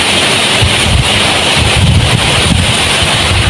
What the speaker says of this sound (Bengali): বৃষ্টি হচ্ছে কি বাতাস